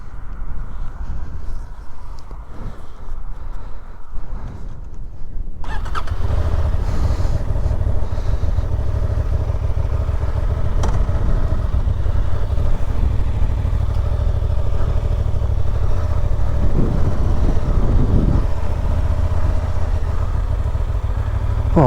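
A motorcycle fitted with a quick shifter runs at a low, rumbling idle, then the engine note rises into a steady, loud drone as it moves off on a ride, heard close from on board.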